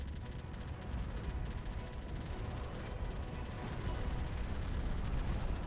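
Battlecruiser guns firing in Space Engineers, a dense, continuous roar of rapid gunfire and rumbling blasts that builds slightly over the span, loud and sustained with no gaps.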